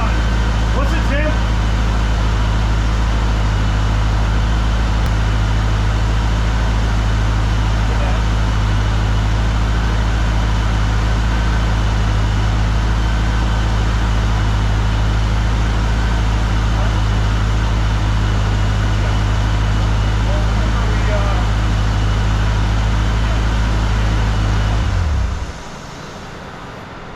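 A cooling fan on a supercharged GTO runs with a loud, continuous whirring hum over a low engine rumble, then cuts off abruptly just before the end.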